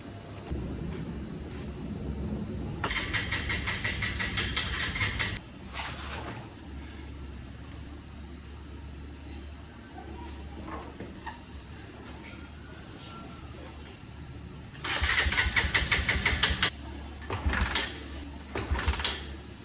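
A vehicle running low on petrol is cranked repeatedly: a long whirring starter burst, then a short one, later another long burst and two brief tries, each failing to catch, with quiet background hum between attempts.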